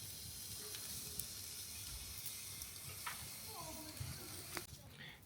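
Kobe beef and fish fry in a pan in Japan with a steady, faint sizzle throughout, joined by a few clicks and clinks of utensils, without talk.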